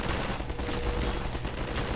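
MP7-style submachine gun fire in Half-Life 2, a dense, loud, continuous burst of rapid automatic shots lasting the full two seconds with no break.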